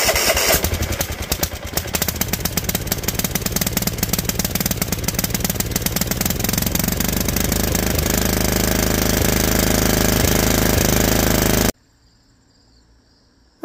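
A Bolens ST110 garden tractor engine, choke on, is started and chatters loudly and steadily for about twelve seconds before cutting off abruptly into near silence.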